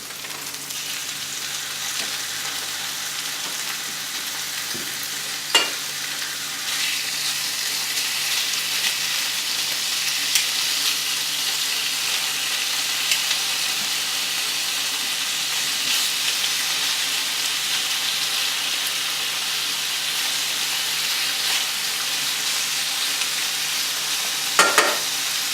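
Sliced pork sizzles loudly in a pan with roasted peppers and garlic, a steady dense hiss that runs throughout, broken only by a couple of brief clicks and stirring knocks.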